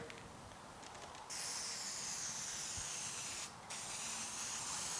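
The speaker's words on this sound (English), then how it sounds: "So let's go ahead and get some of this Rust-Oleum on here." Rust-Oleum spray paint hisses from an aerosol can onto bare, cleaned and metal-etched steel on a GTO restomod, in two long close bursts with a short pause between.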